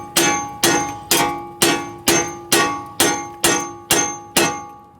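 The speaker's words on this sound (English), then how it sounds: "we're just going to give this a couple taps to loosen it up." A hammer strikes a metal coilover on a turbo Honda Civic ten times at a steady pace, each blow ringing out as a bright clang that decays before the next.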